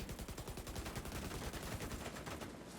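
Rapid, continuous assault rifle fire from The Division 2, a steady fast rattle of shots throughout, fairly faint and heard alone.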